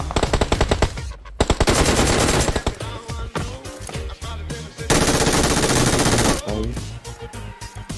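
Rapid bursts of automatic machine gun fire in the BGMI battle royale video game, several loud sustained volleys with short gaps and sharp single shots between them, close and dominant.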